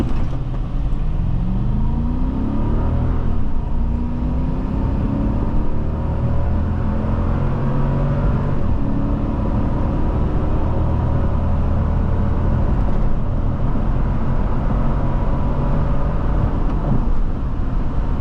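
A 2008 Lexus LX570 accelerates hard from a standstill, its engine rising through several gear changes in a steady loud rumble with sweeping upward pitch, heard close from inside the cabin for the whole stretch with no talking.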